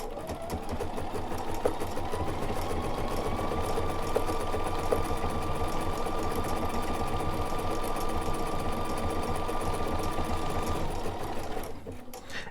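A sewing machine stitches out quilt label letters in a steady, continuous mechanical whir with a fast needle rhythm, close and even, stopping near the end.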